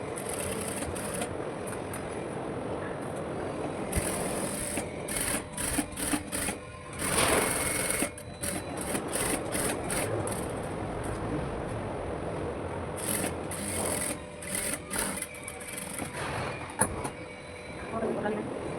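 A sewing machine stitches a princess-cut blouse in short, close bursts of rapid mechanical chatter, starting and stopping repeatedly with brief quiet gaps between runs.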